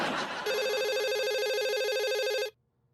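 A landline telephone rings once in a steady electronic trill lasting about two seconds, loud and close, then cuts off abruptly into near silence.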